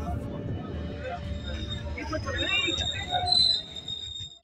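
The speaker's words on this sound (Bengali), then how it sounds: "ট্রেন ঢুকছে আমার পলাশী স্টেশনে।" A train pulling into Plassey station, a steady low rumble of wheels on rail with faint high squeals and rising clatter, moderately loud and close, with people talking nearby.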